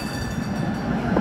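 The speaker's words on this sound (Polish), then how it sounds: "Tramwaje." A tram passes on a street in Wroclaw, Poland, a continuous rolling rumble with light clatter of wheels on the rails, fairly close and steady, with no speech.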